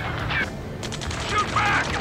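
Gunfire in the video game Ace Combat 7, rapid bursts of shots crackling under shouted voices and battlefield commotion, steady and close throughout.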